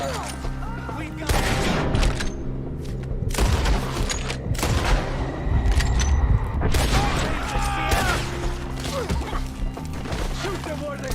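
Repeated gunshots and volleys ring out in a Red Dead Redemption 2 shootout, loud and close, while voices shout over the steady firing.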